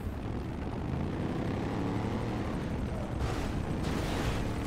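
A helicopter hovers during a GTA 5 race, its rotor and engine producing a loud, steady, unbroken roar with a slight shift in texture near the end, no voices over it.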